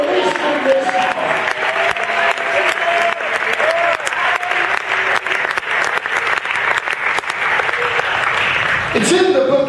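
A church congregation claps during a Sunday sermon: loud, sustained applause from many hands, with voices mixed in beneath it and a speaker's voice emerging right at the end.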